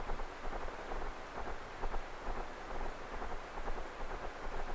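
Steady rain on an afternoon, a dense continuous patter with soft irregular drops and a low rumbling undertone, faint and even, no voices.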